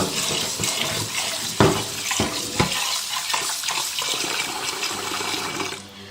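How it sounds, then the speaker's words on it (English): Cold tap water runs steadily over rice being rinsed in a bowl, a continuous close splashing rush with a few sharper sloshes partway through, then easing near the end. "Then I add more cold water."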